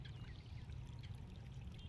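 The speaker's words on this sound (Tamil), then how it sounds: "ஆமாம், தண்ணி போகுது." Water pours from an irrigation channel into a field, a faint, steady trickling flow with a low rumble beneath, no voices.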